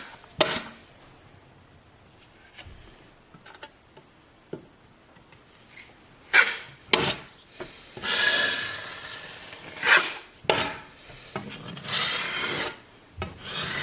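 A drywall taping knife scrapes across a curved wall during flat taping, with several close rasping strokes between quieter taps and clicks.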